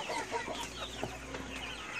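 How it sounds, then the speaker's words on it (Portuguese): A mixed-breed hen clucking in a flock of chickens, including sebright and hamburg birds, with repeated soft clucks and mixed fowl calls close by over a busy yard background and no talking. "E olha minha franguinha aqui, ó, minha galizezinha mestiça."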